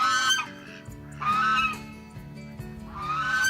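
A goose honks three times in slow succession, loud nasal calls with pauses between, no talking.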